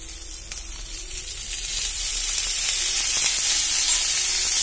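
Oil sizzles and fries steadily in a hot pan while green chillies cook for a pachadi, the hiss building slightly louder and holding continuous and close throughout, with no talking.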